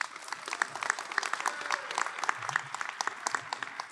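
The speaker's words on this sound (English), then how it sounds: "give each other a round of applause." Pharmacy graduates at a commencement ceremony applaud one another, a full crowd of many hands clapping continuously with crisp individual claps standing out, steady and fairly loud throughout.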